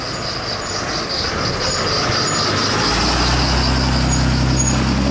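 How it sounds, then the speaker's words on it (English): Trolleys rumble along their tracks nearby, a steady rolling roar with faint high squeals from the wheels, growing louder toward the end. "These are the trolleys."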